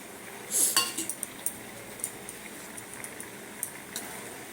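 A plate and metal utensils clink and clatter in a kitchen while making dahi paneer, with one louder cluster of clinks early on followed by sparse, lighter knocks; no clear sound of running water stands out.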